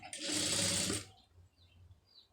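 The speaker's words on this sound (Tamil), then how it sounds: "இந்த லைனிங்கை உள்ளர வச்சு நீட்டாக வந்து தையல் ஓட்டிடுங்க" Sewing machine stitching piping onto cloth with lining: a single close burst of rapid stitching about a second long, then quiet.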